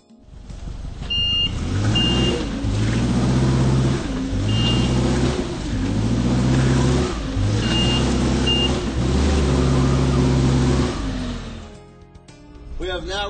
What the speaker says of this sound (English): I will be driving the truck as aggressively as it allows me